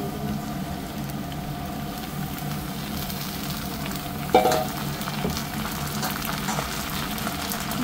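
Eggplant is dropped into a pan of frying potatoes and browned onion, giving a steady loud sizzle with one brief clatter partway through and no voices.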